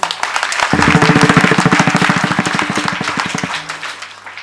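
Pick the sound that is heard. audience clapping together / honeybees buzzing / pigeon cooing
audience clapping together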